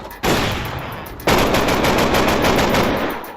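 AK rifle firing in a Minecraft gun mod game, rapid automatic bursts with sharp sustained fire, a second louder burst following a short first one, close and with no talk.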